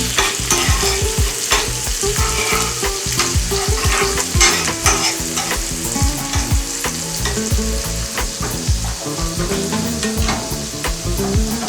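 Onions sizzle and crackle steadily in butter in a hot pan, with frequent scraping and stirring sounds throughout.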